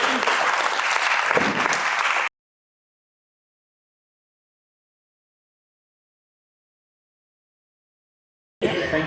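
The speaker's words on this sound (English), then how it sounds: "I think they all deserve another round of applause as a unit." A panel audience claps in a full, loud burst for about two seconds, then falls silent for a long gap before the applause briefly resumes at the end.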